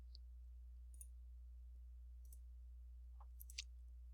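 Several faint, sharp clicks of buttons being pressed, spaced irregularly across a few seconds over a steady low electrical hum, with no talk.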